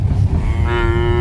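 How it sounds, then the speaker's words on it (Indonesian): Cattle on a village farm give a single low, drawn-out moo. It comes in close and loud over rumbling background noise, with no talk during the call. "inilah sapi-sapi"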